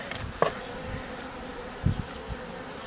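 A honeybee colony buzzes at a hive in an apiary in winter, a dense steady hum of many bees with a couple of louder, closer passes by single bees.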